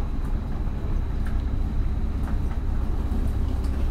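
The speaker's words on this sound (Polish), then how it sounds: "Lokomotywa właśnie, tak mi się wydawało, że jest odpinana." Low rumble and faint metallic clanks from a stationary intercity train on the Kraków–Vilnius route as the locomotive is uncoupled, quiet and steady with occasional soft knocks.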